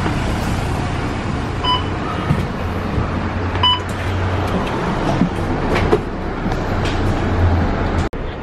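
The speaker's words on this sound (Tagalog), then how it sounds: "nandito na ako sa MRT" MRT train ride with a loud, steady rolling rumble and hum from inside the carriage, a couple of brief chime tones, and a sharp clunk near the end.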